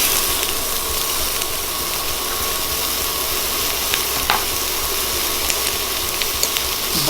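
Onion frying in olive oil in a skillet, a steady broadband sizzle running unbroken throughout with no talking, close and even in level.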